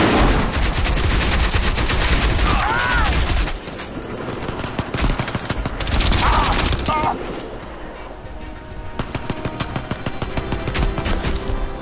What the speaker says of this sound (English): So you can hear the 50 cal opening up behind me.